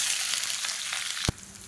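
Long-sliced big onions, about a quarter kilo, hitting hot oil in a pan for chana masala: a steady bright sizzle and crackle, with a short clunk of a utensil near the end, no voices.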